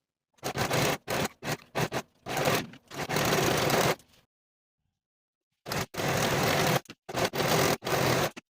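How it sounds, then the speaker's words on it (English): A serger runs along swimsuit seams in bursts, several short buzzing runs then longer stretches, a pause of silence, and two more steady runs, close and fairly loud with no talking. "As I'm serging all of the seams, I'm going to leave this 1 inch gap open for turning."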